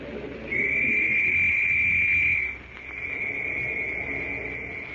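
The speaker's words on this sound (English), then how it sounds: "Shrill and sharp, the whistle rings through the valley" A shrill police whistle blasts once for about two seconds, then a quieter, steadier tone follows like an echo rolling through a mountain valley over a low background hiss.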